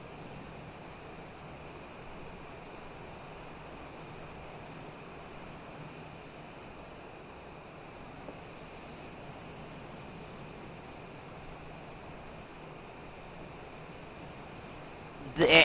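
Steady aircraft engine drone in Microsoft Flight Simulator 2020, a continuous even rushing hum that stays at one level throughout, with a brief louder bump at the very end.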